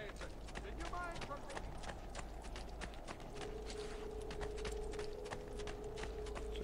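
Horse hooves clip-clop steadily in Assassin's Creed II, a regular rhythmic patter of footfalls under ambient game sound, with a faint tonal hum joining midway.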